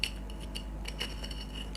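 A metal spoon scoops coffee powder for a homemade skin-brightening face mask, giving a few light, close clinks and scrapes against a container, with no talking.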